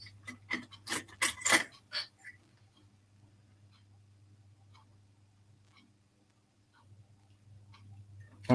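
A pin vise hand drill clearing paint from a hole in a 1:12 Routemaster bus model. A cluster of small close ticking and scraping clicks comes first, then a faint hum with occasional soft taps.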